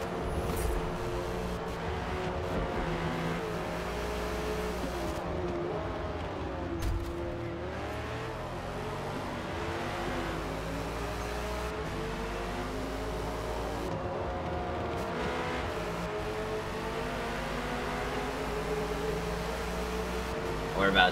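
Vintage race cars roar around Le Mans in the Forza racing game while a Porsche closes in from behind. The engine drone is steady and loud, its pitch rising and falling with gear changes, and someone talks over it.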